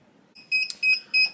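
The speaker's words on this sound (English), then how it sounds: "our timer is going off" Heat press timer on a sublimation press set for one minute at 395 degrees, sounding three short electronic beeps in an even rhythm, close and clear over near silence.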